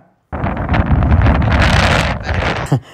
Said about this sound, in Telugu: అక్కడ రికార్డ్ చేసిన సౌండ్ ఎంత ఎక్కువగా ఉందో చూడండి, గాలి సౌండ్ అది కూడా